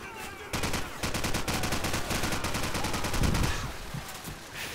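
Rapid automatic gunfire from Call of Duty 4: Modern Warfare crackles in dense, loud bursts for several seconds, then eases into scattered shots and game ambience.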